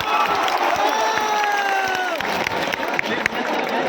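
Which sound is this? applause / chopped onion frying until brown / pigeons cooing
applause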